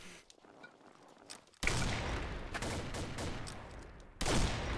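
Gunfire in the online shooter Combat Arms: a quiet start, then a loud burst of rapid shots that sustains for a few seconds before a second sharp volley near the end.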